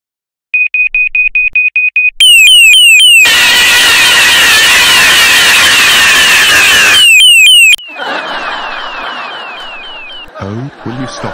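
A car alarm goes off: a quick series of steady electronic beeps, then loud chirping and a sustained blaring wail, followed by quieter sweeping tones, all loud and close.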